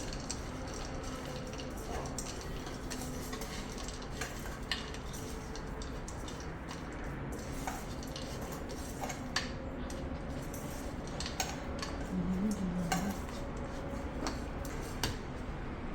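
A spoon stirs chopped almonds, cashews and tutti frutti for a malai sandesh sweet, making soft, quiet scraping and clinking sounds with intermittent light ticks against the bowl.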